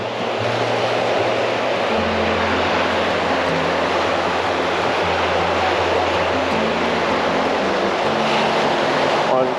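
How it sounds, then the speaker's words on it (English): Mediterranean surf on Sitges beach in Spain washes in as a loud, dense, continuous roar, with a low droning engine hum running underneath and no clear breaks between waves. "This is the Mediterranean Sea."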